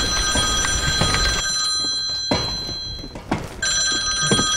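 A telephone ringing in the CS:GO co-op map Coop_bagan_rescue, with repeated electronic bell rings that sound loud and close, a short pause in the middle, and thuds between the rings.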